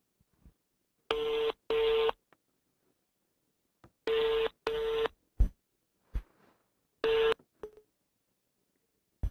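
A telephone dials out to return a call: several pairs of steady electronic tones, each about half a second long, separated by gaps, with a few short clicks between them, heard alone and fairly close.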